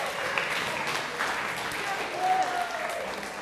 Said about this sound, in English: Give Vu and his table a round of applause